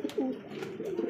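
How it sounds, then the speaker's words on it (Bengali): A pair of white Lakha pigeons coos steadily in low, throaty rolling tones, several overlapping coos close by with no talking. "দর্শক বন্ধুরা দেখতে পাচ্ছেন চমৎকার এক জোড়া হোয়াইট কালার মধ্যে লাখা কবুতর"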